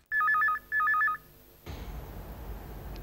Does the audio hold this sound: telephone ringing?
yes